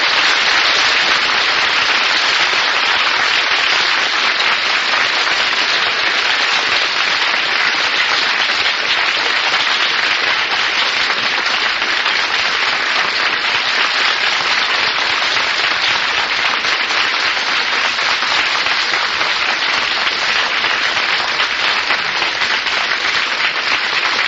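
Dense, sustained applause fills a 1949 studio audience for a comedy quiz show, steady and loud from start to finish with no break.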